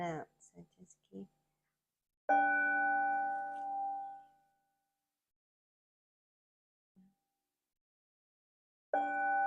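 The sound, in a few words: meditation bell being rung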